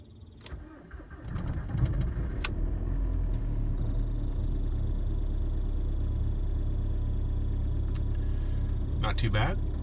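A 2003 VW Jetta TDI with the ALH diesel engine cold-starting at minus 12 Celsius: a short cranking, then the engine catches and settles into a steady, rough diesel idle with a few clicks on top.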